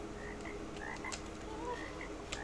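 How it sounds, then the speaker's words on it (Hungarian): Frog croaking in a Roblox game: short repeated croaks and chirps come in quick uneven bursts over a steady low background hum, moderately loud. "Miért brekegsz?"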